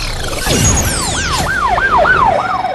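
An emergency rescue vehicle siren wails loud and close in rapid repeating rising and falling sweeps, with no talk over it.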